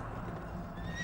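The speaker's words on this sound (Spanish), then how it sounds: "Y vi aparecer un caballo negro, cuyo jinete tenía una balanza en la mano." A horse neighs in a drawn-out whinny over a dense, dramatic background, loud and continuous through the short moment.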